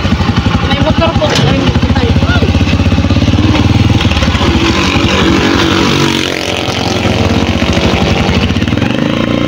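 Motorcycle engine rumbling loudly and close throughout, with a steady low throb from a vehicle ride, over people talking.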